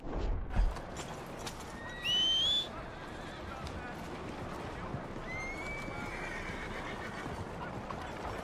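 A horse whinnies loudly in Red Dead Redemption 2, a brief high neigh rising over soft hoof clip-clop and game ambience, with a later fainter whinny.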